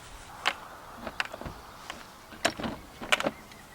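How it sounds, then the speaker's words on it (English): A caravan door opened on site during setup, heard as a few short clicks and latch clatters spread across a few seconds, close and fairly quiet, with no talking. "open the door"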